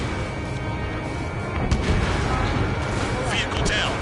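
Missile launches and explosions during an aerial dogfight in the video game Ace Combat 7, with rumbling booms and sharp bursts layered over continuous jet noise and several louder hits toward the middle and end.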